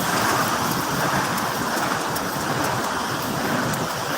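Steady rain hisses down over a busy city street near Ayala Avenue and Glorieta in Makati, a dense, continuous wash of noise with traffic rumbling low beneath it, close and loud throughout.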